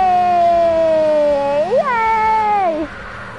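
A pet cat named Fred lets out a long, loud meow held for over two seconds, its pitch sliding down, briefly rising, then dropping again before it fades, heard up close with no talking.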